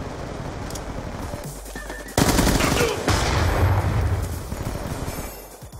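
Submachine gun fire in a shooter video game, a loud sustained rattling burst that starts abruptly midway and carries on for several seconds over background game noise.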